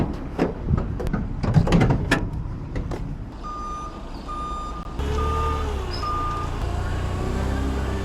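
A truck backing up, with a steady series of evenly spaced reversing beeps over engine rumble, preceded by some clattering knocks.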